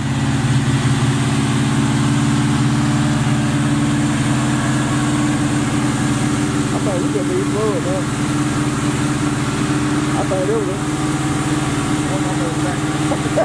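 Box Chevy car engine running steadily after being fired back up, a loud close idle rumble throughout with a person speaking over it.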